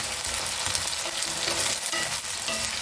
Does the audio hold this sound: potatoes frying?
yes